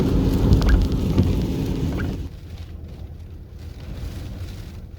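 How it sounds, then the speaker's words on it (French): Rain falls steadily as a broad hiss. It is louder and denser at first, then softens to a gentler patter after a couple of seconds. "Il pleut, il pleut, il pleut."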